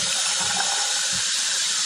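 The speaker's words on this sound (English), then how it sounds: "So I'm going to put some water in this pan and I will boil them." Water poured into a cooking pan for boiling black walnuts: a steady, close, broadband gushing and splashing that runs without break and with no talk.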